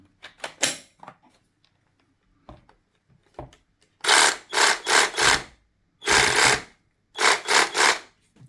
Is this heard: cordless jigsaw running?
yes